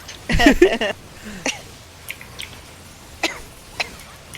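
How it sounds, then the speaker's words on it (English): A short burst of coughing near the start, followed by a few faint, scattered clicks and small sounds in a quiet room. "I cough a little too much."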